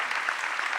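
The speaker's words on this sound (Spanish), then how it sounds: "Te agradecemos con un gran aplauso." An audience applauds a speaker at a theatre spectators' school talk on stage dramaturgy, giving a continuous, even burst of many hands clapping at moderate loudness with no talk over it.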